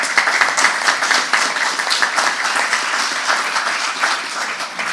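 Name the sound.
audience applause at an event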